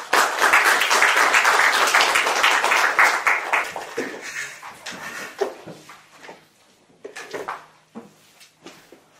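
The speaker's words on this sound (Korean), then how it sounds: "박수로 맞이해주시죠" An academic conference audience applauds to welcome a presenter, dense clapping at first that thins into scattered, separate claps and then stops near the end.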